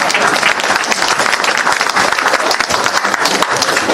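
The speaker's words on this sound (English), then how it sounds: "Yeah, you're allowed to clap for that." Dense, steady applause from an audience at a Conservative Party of Canada political event, loud and continuous for about four seconds with no break.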